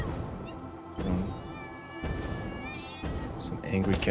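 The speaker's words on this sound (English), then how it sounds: "Some angry cats everywhere." Angry cats in the video game Satisfactory yowl and meow in drawn-out, rising caterwauls, several calls in a row, with a voice talking between them.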